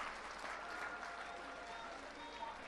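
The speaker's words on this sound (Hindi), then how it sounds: "एक बार जोरदार तालियों के साथ जज साहब का शुक्रिया अदा कर दीजिए" A crowd at a political rally claps steadily and fairly evenly for a few seconds, a dense wash of applause heard from a moderate distance with no clear speech.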